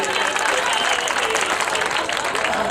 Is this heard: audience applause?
yes